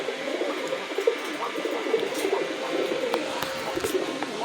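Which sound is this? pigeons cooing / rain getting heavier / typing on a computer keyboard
pigeons cooing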